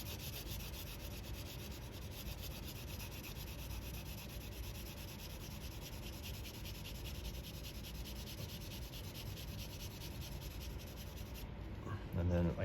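A tissue rubs steadily across paper to blend pencil shading on a cube drawing, making a soft, continuous close-up scrubbing hiss that ends in a few brief knocks.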